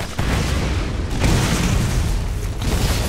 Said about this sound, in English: what the hell are you shooting